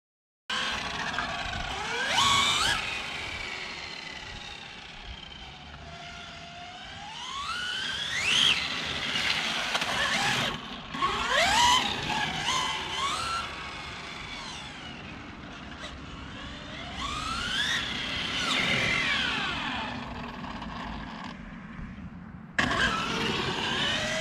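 A 1/5 scale 4x4 RC Clio car powered by a small engine drives around warming its tyres, repeatedly revving and whining as it passes near and far, with loud buzzing bursts and a brief cut at the end.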